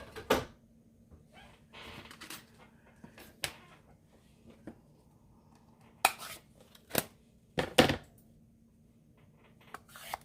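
Scissors snip out a paper crane shape for a card, heard as sparse, close, crisp cuts and paper rustles over a quiet room hum.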